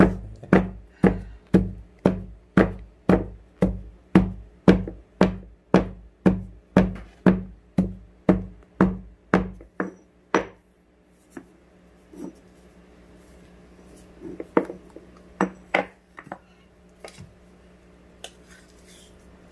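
Sesame seeds pounded with a pestle for tamarind-leaf chutney: about twenty loud, evenly spaced thuds over ten seconds, then a few scattered lighter knocks and scrapes.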